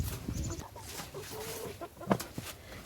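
Black Jersey Giant chickens in a backyard flock cluck and murmur in short, irregular calls at close to moderate distance, with a louder squawk near the end and steady farmyard ambience beneath.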